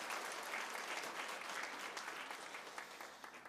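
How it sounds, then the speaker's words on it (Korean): A church congregation applauds during a worship service, with steady, dense clapping that stays loud throughout and fades slightly toward the end. "박수를 한번 격려하시면 감사하겠습니다."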